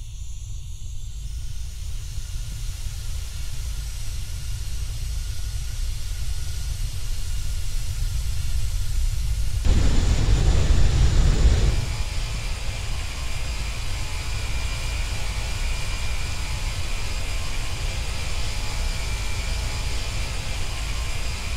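Jet engines of a Delta 757-300 spool up in the Roblox game Aeronautica, a steady loud roar with a hissing surge that peaks briefly and then settles back into a constant drone.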